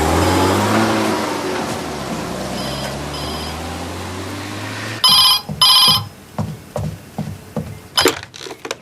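An old-style telephone bell rings in two loud, close bursts after a car engine fades away, followed by scattered softer clicks and knocks in a quiet room.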